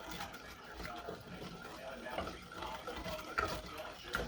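Butter, evaporated milk and brown sugar being stirred together in a pot, a steady scraping and swishing of the spoon against the pot with a faint sizzle and a few light metallic clinks, fairly quiet throughout.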